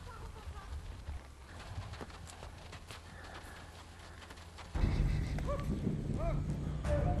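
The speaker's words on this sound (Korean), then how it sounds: "말은 사람이 몰지 않아도 가장 앞에서 길을 찾아 이동합니다." Horses trudge through deep snow on a Mongolian winter migration, leading cattle and yaks toward a mountain pass. The hooves crunch and thud steadily at a middle distance over wind and ambient noise, growing louder and nearer in the last few seconds.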